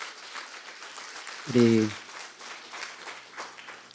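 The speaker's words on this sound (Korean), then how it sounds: "우리 하나님께 영광의 박수 크게 합시다." A Sunday church congregation gives a big round of applause, a dense, steady patter of many hands throughout. A voice briefly speaks over the clapping partway through.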